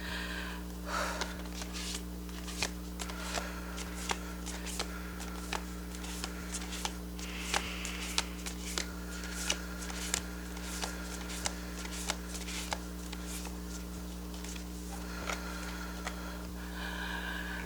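Tarot cards shuffled by hand, soft riffling and regular light taps recurring about once a second over a steady low background hum, quiet and close, with no talk.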